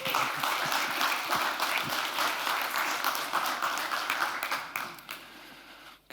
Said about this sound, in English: the audience for this applause